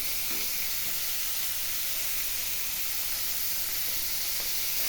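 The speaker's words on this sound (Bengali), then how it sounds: "তো আমি এগুলো সবগুলো মাছকে লাল লাল করে ভেজে নিব" Large giant freshwater prawns fry in a pan over lowered heat, giving a steady, even sizzle and hiss that continues alone without talk.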